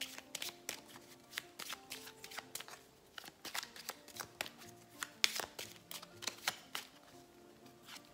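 Oracle cards shuffled by hand for a weekend reading, a steady run of crisp riffling flicks and soft papery slaps, close and fairly quiet, with no talking.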